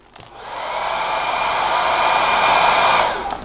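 Hair dryer blowing to quick-dry paint brushes, a loud steady whoosh that swells in, holds for about three seconds, then cuts off, close up with no talking.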